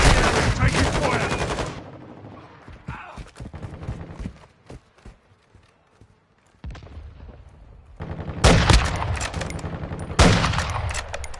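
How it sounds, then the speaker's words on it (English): Gunfire in the video game Modern Warfare 2: loud bursts of automatic rifle fire, then a quieter stretch of scattered shots and clatter, then heavy sustained firing again. "Taking fire."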